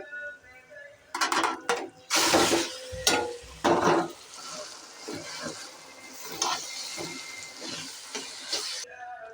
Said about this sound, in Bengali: এতে রসুনটা ভাজা হয়ে গেলে এখন দিয়ে দেব জলপাইগুলো